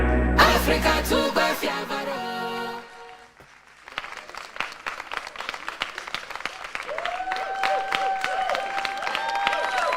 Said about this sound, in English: am I hearing the round of applause properly?